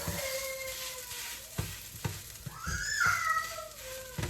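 Food sizzles steadily in a hot pan, seasoned with garlic powder and pressed down to crust, with a few sharp scrapes and taps of a utensil cutting through the close, continuous hiss.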